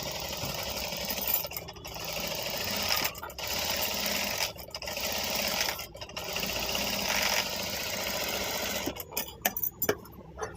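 An electric sewing machine stitching fabric for a butterfly bow runs in steady whirring bursts separated by short pauses, then ends in a few quick stop-start stitches, close and clear with no talking.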